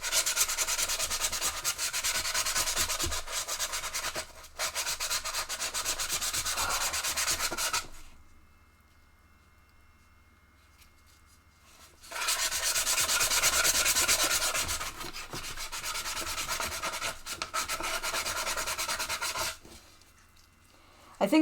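Sandpaper rubbing over a Japanese foil ball, steady scratchy sanding strokes in two long bursts split by a few seconds of near silence, close and fairly loud.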